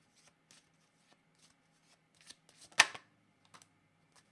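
A deck of tarot cards being shuffled, with a few soft riffles and taps leading to one brief, louder burst of cards in the middle, close and quiet with no talking.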